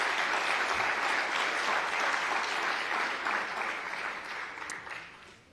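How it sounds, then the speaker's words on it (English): Broad, sustained applause from a conference keynote audience filling the room, holding steady before tapering off toward the end. "Now I want to ask the audience for applause for you"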